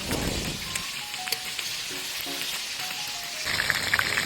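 Food fries in hot, splattering oil with a steady close sizzle and scattered pops, growing louder and more crackly near the end, with no talking.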